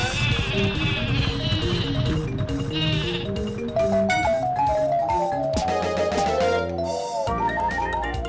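Sheep bleating from the Sleepy Sheep item in the Paper Mario video game, a chiptune-style effect that rings out over busy, continuous game music.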